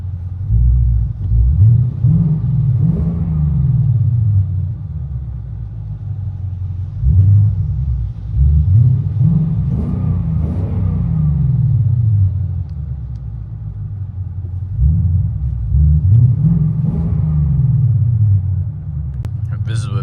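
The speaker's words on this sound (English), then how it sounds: "This is with valves closed." Deep, rumbling V8 exhaust of a 2021 Ford Mustang GT 5.0L with the exhaust valves closed, heard from inside the car as it repeatedly swells and revs, then settles back to a steady low burble.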